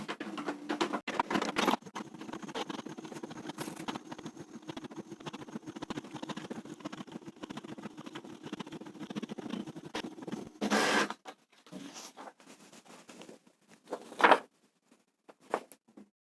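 An inkjet printer with a freshly cleaned and refilled cartridge printing a page: soft, continuous mechanical whirring with rhythmic patter of the print head, broken by louder clunks and pauses near the end.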